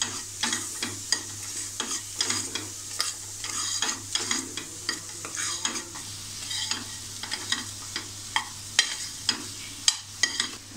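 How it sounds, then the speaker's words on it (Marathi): Potatoes and black-eyed peas with salt and turmeric being sautéed and stirred in a pan, giving a steady close sizzle broken by repeated scraping and clinking strokes of a spoon, with a low electrical hum beneath. "आता हे छान आपण परतून घेऊया."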